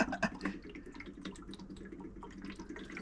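Coolant trickling slowly out of a nozzle on an Autozam AZ-1 cooling system into a hose, a thin continuous watery splashing and dripping up close, with no talking.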